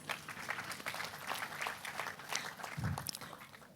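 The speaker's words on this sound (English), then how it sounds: "Let's clap for ourselves." Audience applause at a seminar, a soft, steady patter of many hands clapping at a distance, faint in a large room, with a low thump near the end.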